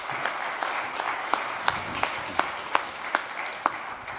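Scattered applause from an audience at an e-skills conference closing ceremony, a handful of distinct sharp claps standing out over a thin, sparse patter that never swells into a full ovation.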